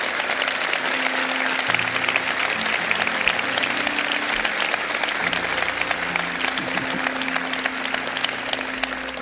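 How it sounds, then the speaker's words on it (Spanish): A church congregation applauds steadily and loudly throughout, a dense wash of clapping from many hands with a faint murmur of voices underneath. "Denles un buen aplauso."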